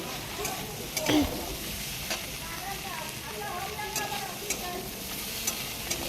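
Food fries in oil in a pan at home, giving a steady, close sizzle with occasional stirring clicks and scrapes throughout.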